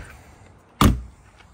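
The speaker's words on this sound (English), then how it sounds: "I'll close this door." An RV exterior storage bay door swings shut with a single sharp, loud thud-slam that decays quickly, with quiet surroundings and no one speaking.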